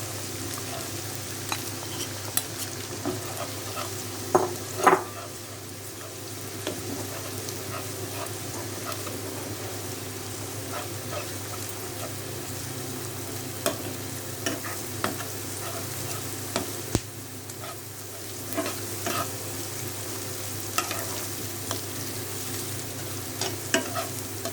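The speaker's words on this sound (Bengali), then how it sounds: "এখন ডিমটা দিয়ে দিচ্ছি।" Egg dropped into snake gourd paste frying in a pan, with a soft steady sizzle and intermittent stirring scrapes, faint dog whimpers somewhere in the background.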